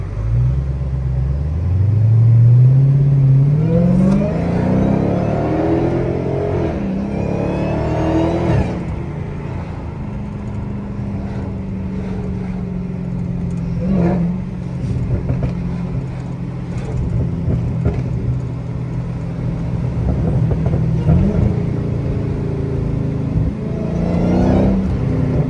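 A Dodge Hellcat Redeye revs hard while driving, its engine rising in a loud climbing roar and then settling into a deep, steady rumble, with further throttle blips and surges over about 25 seconds.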